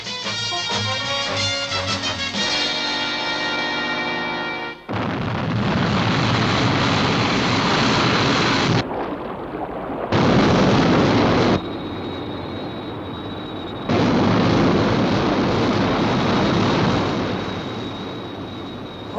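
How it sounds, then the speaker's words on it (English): The Sky 1 interceptor aircraft from the UFO television series lifts off with a loud, sustained jet-like roar that starts abruptly after a brief tonal lead-in, then surges in several powerful blasts broken by short drops. "Stand by for liftoff."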